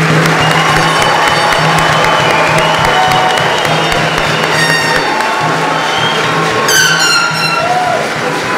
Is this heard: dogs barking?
no